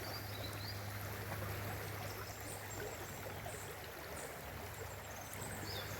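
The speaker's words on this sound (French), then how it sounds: "Ce ruissellement là, méditatif." River water trickles and rushes steadily, a soft continuous flow with faint birds chirping in the distance.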